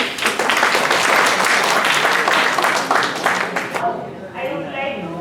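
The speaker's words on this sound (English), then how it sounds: "Let us make this moment special with a big round of applause." Graduation ceremony crowd claps in a big round of applause for the graduates, dense and loud before fading out, with voices talking as it ends.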